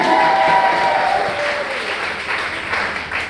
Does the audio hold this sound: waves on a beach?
no